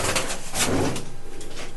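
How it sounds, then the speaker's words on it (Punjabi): A black Chini hen pigeon coos in a short throaty burst close by in a Punjabi loft, trailing off into quieter rumbling. "ਆ ਕਬੂਤਰੀ ਕਾਲੀ ਚੀਨੀ ਹੈ ਜੀ"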